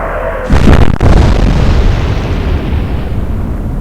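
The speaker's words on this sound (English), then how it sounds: "That's a devastating salvo" Naval gun salvo in the Atlantic Fleet naval warfare game, a loud booming blast followed by a second sharp report, then a long rumbling roar that slowly fades.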